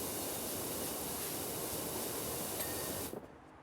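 Steady, broadband high-pressure spray hiss from a power washer cleaning objects on a mini golf course in a video game, loud and continuous for about three seconds before cutting off abruptly.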